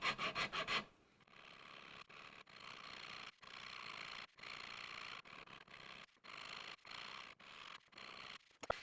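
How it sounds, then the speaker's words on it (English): Coarse dragon rasp worked flat side across wood, a close, rhythmic series of raspy scraping strokes separated by short pauses, after a louder opening burst. "I'm using a coarse dragon rasp, the flat side."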